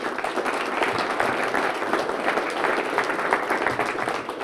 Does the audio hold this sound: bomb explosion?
no